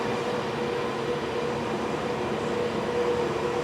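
Cable car cable sheaves and pulleys running inside a museum machinery room: a continuous, fairly loud mechanical rumble and whir with a faint steady tone, unbroken throughout and without speech.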